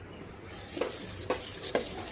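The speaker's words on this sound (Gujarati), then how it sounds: "આપણે પીગળે ત્યાં સુધી આવી રીતે મિક્સ કરવાનું છે" Melting soap base mixed with rice powder is stirred in a container, three distinct scraping strokes over a low background hiss, close and moderately quiet.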